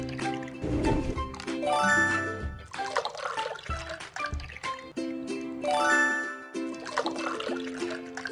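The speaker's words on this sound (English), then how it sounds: "Pour the smoothie in glasses." Cartoon liquid-pour effects from a cooking video game as an apple milk smoothie fills glasses: two bubbly gurgling pours over a light tonal music loop, no voices.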